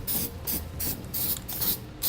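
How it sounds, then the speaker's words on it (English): Spray paint hisses in short, repeated bursts under the bed of a 2015 GMC Sierra 3500 pickup during a fifth-wheel trailer hitch installation, about six close spurts with brief gaps between them. "take some spray paint and we'll spray so we don't have to worry about any rust in the future where we drill"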